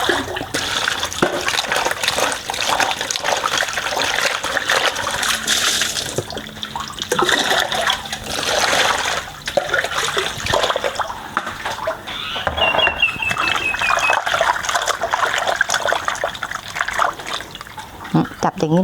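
Pig intestines are rinsed under running water, giving steady splashing and trickling with wet handling sounds, close and continuous while someone talks over it.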